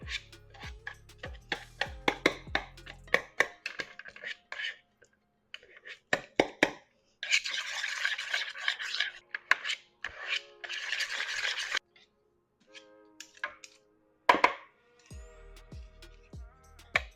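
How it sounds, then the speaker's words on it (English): Thawed frozen bananas being mashed with a whisk in a bowl: close, intermittent squishing and scraping strokes with sharp clicks against the bowl, separated by short pauses, with no talking. "I'll take my whisk and I'll just kind of mash them into smaller pieces"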